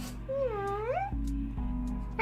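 A person imitates a cat's meow with a drawn-out, rising and falling nasal tone, followed by a short second sound and a brief breathy burst, heard close against a steady low hum.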